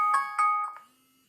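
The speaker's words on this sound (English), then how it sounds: "That's my alarm going off." A phone alarm rings out in a bright, tonal electronic melody of a few repeated chimes, fairly close, then cuts off into quiet.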